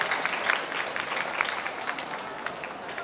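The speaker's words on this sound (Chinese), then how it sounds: "我们给他一个热烈的掌声吧" Audience applause at a summer cosplay contest in Kaohsiung, a steady wash of many hands clapping for the full three seconds, fairly even in loudness with no voices standing out.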